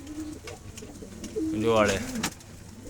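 Pigeons cooing close by on a rooftop, a soft rolling coo rising in the middle, with someone talking intermittently around it.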